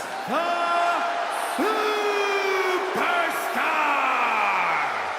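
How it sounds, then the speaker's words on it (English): A video game wrestling crowd cheers and yells loudly for a wrestler's entrance in several rising and falling waves, with voices prominent in the mix. "It's great to hear the crowd give this superstar the reception he deserves"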